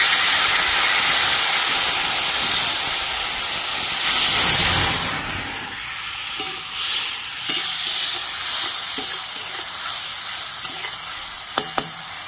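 Water splashed into a hot pan of coriander powder hisses and sizzles loudly, with a burst of steam near the middle before settling into steady frying crackle and a few clinks of stirring.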